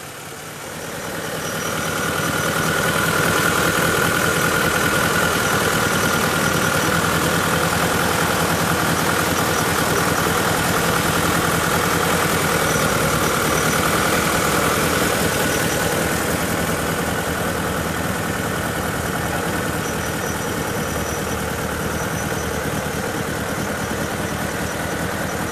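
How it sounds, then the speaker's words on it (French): The water-cooled four-cylinder GS engine of a Citroen Projet L prototype runs at a steady idle, a continuous even drone and hum close by, rising at the start and holding unchanged throughout. "ce moteur qui est absolument unique fonctionne parfaitement"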